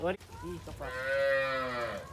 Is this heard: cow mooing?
yes